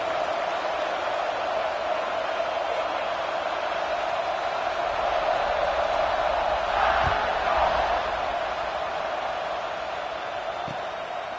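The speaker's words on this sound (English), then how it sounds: "this crowd is buzzing after that last score" Steady stadium crowd buzz after a score in the College Football 26 video game, a broad continuous roar with a slight swell midway and no distinct cheers.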